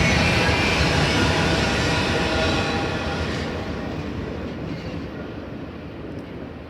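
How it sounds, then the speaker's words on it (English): A BNSF intermodal freight train rolls past with an H2-9 locomotive leading and an H1-9 second: a broad, loud rumble and roar of rail noise that fades slowly as the train moves away. "A BNSF intermodal with an H2-9 leading and H1-9 in second."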